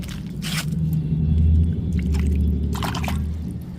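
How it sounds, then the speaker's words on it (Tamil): Chrysanthemum seedlings being planted by hand into soil: close, wet squishing and scraping of earth pressed around the roots, steady and continuous, with no talking. "இப்போ எல்லா நாற்றுகளையும் இதே முறையில் நம்ம நடவு பண்ணிட்டு பார்க்கலாம்"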